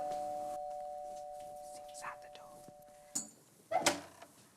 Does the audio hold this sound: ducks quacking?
no